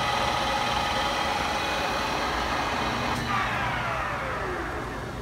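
Nomura 4-inch horizontal boring machine spindle running at its top speed of 1200 RPM, a steady loud machine drone and hiss with a faint tone sweeping down midway, no talk over it.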